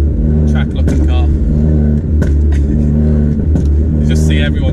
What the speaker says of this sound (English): that's the thing of having a very loud, track-looking car